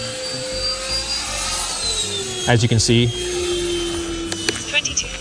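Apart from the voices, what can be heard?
RC ducted fan jet flying, Rafale or Gripen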